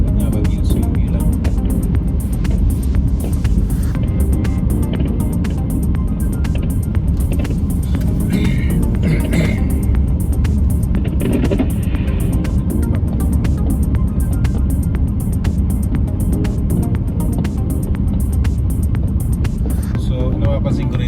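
Car driving slowly through the streets of Reykjavik, Iceland on New Year's Eve, a continuous close engine and road rumble from inside the vehicle, steady and loud throughout.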